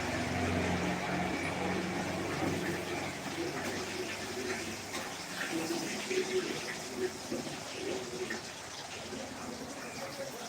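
Running water pours steadily while something is washed, a broad rushing gush that eases slightly partway through and carries some faint clatter over it.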